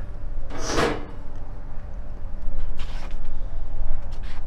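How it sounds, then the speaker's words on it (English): The metal cover of a diesel heater for a tiny off-grid cabin is pulled off, giving one loud creaking scrape near the start, then faint rattles and clicks over a steady low hum. "you have to remove the fuel cap and then this cover comes off"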